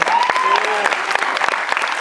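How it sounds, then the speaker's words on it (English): Comic convention panel audience breaking into applause, loud close clapping with a brief cheer or whoop near the start. "Your applause for this pin."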